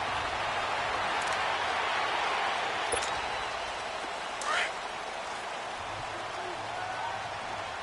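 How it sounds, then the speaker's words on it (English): Steady rain falls during a football match in a PS4 video game, a continuous even hiss of downpour with faint crowd noise and a commentator's voice over it. "Well, Charles, the forecast called for rain throughout the entire game, and we got rain throughout the entire game."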